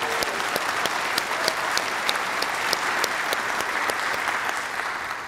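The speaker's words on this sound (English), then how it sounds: "Yes, let's clap." Churchgoers at a Sunday service clap together in a steady wave of applause, with a few sharp individual claps standing out in a regular rhythm over the crowd's continuous clapping.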